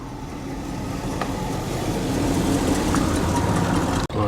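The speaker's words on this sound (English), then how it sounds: "I hear the distinctive sound of an air-cooled Citroen." A late-1960s air-cooled Citroen Ami 6 engine idles steadily and fairly close at a classic car show, a continuous buzzy drone that holds even for about four seconds before a brief sharp dropout near the end.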